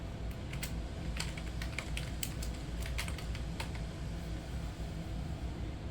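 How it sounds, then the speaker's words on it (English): Typing a name on a computer keyboard, a quick scattered series of light key clicks over a steady low background hum, close but soft. "Now to type in a name."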